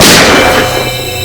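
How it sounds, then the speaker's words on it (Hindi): A single sharp gunshot bursts out loud and close, then its ringing echo decays over about a second, with no voices. "सर गोली चलने की आवाज?"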